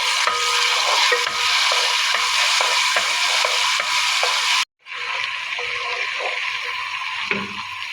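Potato, carrot and onion fry in a pan while being stirred, a steady loud sizzle with scraping stir strokes, briefly cut off midway before resuming.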